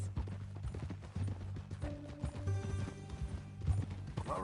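Horse hooves clip-clop at a steady walking rhythm in Red Dead Redemption 2, close and moderately loud, with a musical score playing underneath and no talk.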